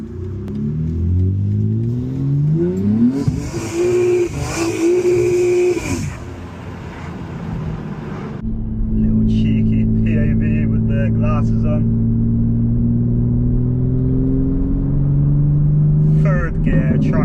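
A tuned 820 bhp BMW G80 M3 revs and accelerates hard on the street, its engine note climbing through the gears, with a roaring burst midway, then a sustained loud drone. Someone talks over it throughout.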